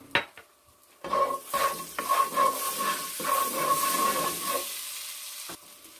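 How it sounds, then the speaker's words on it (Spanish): Three garlic cloves dropped into melted butter in a hot pan sizzle steadily for about four seconds after a few utensil clinks, then fade with a final scrape. "Vamos a agregar 3 dientes de ajo."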